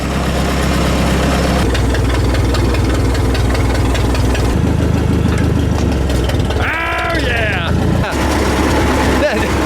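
An old backhoe's diesel engine idles loudly and steadily at close range after starting, its low rumble continuous with knocking, while people talk over it.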